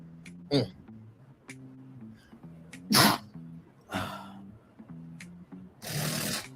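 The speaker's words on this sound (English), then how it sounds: "Those sneezes get harder when you get older." Several sneeze-like bursts, including one strong sharp sneeze, punctuate a man's speech, with breathy noisy bursts following a few seconds later.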